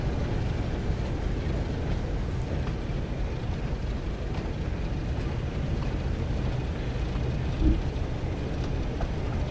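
Train rolling steadily in Train Sim World on the West Somerset Railway, a continuous low rumble of wheels and engine at an even level throughout with no speech.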